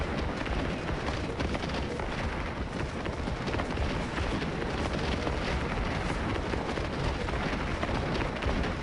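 Regiments firing volleys in the Civil War battle game Gettysburg: Scourge of War, a continuous roar of massed musketry that stays loud and unbroken throughout, like a distant rumbling storm.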